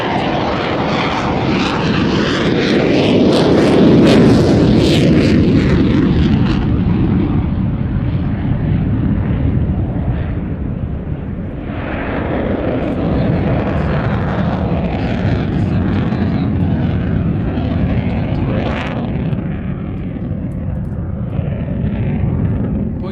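A Eurofighter jet flying a slow, nose-high aerobatic display into wind at an air show, its engine roar loud and continuous throughout, swelling and easing slightly as it passes.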